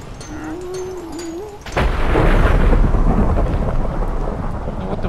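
In Minecraft, a sharp thunderclap breaks in and rolls on, with steady heavy rain hissing underneath; a brief whistling tone comes before it.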